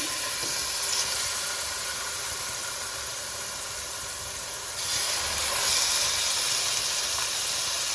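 Boneless chicken, about half a kilo, sizzles in a little hot oil in a pan, a continuous close hiss that dips slightly midway and then swells louder, with no voices.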